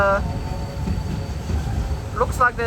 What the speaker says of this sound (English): a locomotive about to depart. I can see all the steam down there.